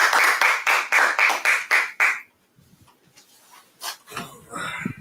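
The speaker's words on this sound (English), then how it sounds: "let's go ahead and clap it up" A small class claps together in a rhythmic, evenly spaced pattern of about eight sharp claps, then stops abruptly, leaving a quiet room with faint voices and movement.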